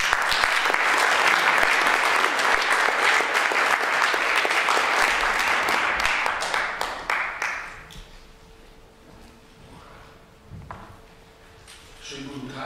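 Lecture audience applauding to welcome the speaker Wilhelm Schmid, dense clapping from a full hall that thins out and fades, followed by quiet room noise.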